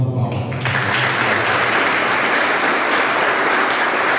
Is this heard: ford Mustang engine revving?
no